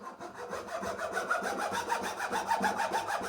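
A hand saw cuts back and forth through wood in a steady rhythm of close, rasping strokes, with about a dozen even pushes and pulls and no one talking.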